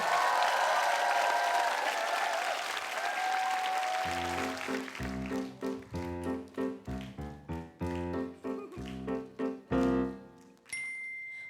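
Applause from a concert audience greeting a Korean female duo on a KBS Jeonju Concert Nabi stage, broad and steady for about four seconds, then giving way to plucked musical notes and chords.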